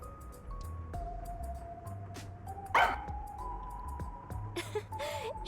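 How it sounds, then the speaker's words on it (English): Sugar, a dog in the game Raincode, gives a few short barks and yips over steady game music and tones, fairly close. "Sugar was barking in front of the room"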